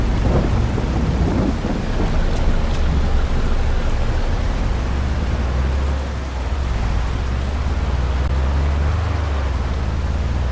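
Steady heavy rain in Farming Simulator 22 with a deep rumbling undertone, continuous and loud, without voices.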